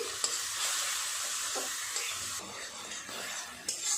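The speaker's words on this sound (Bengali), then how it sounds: "মশলাটা একটু নেড়ে চেড়ে কষিয়ে নেব" Spice paste with tomato stirred and fried in a pan for a spicy Bengali fish curry with parshe fish and eggplant, giving a steady broad sizzle with scraping stir strokes throughout, close and fairly loud.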